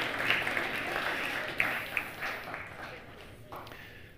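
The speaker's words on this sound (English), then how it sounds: "Give Addie a round of applause here." A church congregation gives a round of applause during a Christmas sermon service, soft and somewhat distant, the clapping thinning and fading away over a few seconds.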